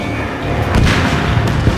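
A destroyed UAV explodes in the Ace Combat 7 flight game, a deep rumbling boom that rolls and swells over a couple of seconds amid low battle noise.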